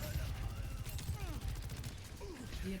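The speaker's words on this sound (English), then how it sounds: "Disruptor shot's fine there." Rapid bursts of Sojourn's disruptor shot from Overwatch crackle continuously through a busy in-game firefight, with layered impacts and effects and faint voice chatter underneath.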